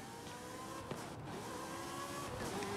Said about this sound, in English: These Ferraris sound really mean.